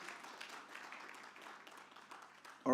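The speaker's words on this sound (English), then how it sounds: "Can we all give Dr. Tonia another round of applause" Quiet, distant applause from a conference audience at a women birders' event, a soft patter of many hands that thins slightly toward the end.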